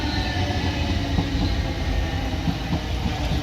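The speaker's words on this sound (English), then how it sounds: "Another train approaching. And this is bound for Guildford." A passenger train bound for Guildford via Epsom, a class 455 unit, approaches a station on the South Western Main Line at Raynes Park, giving a steady, fairly loud rolling rumble with faint wheel clatter and no voices.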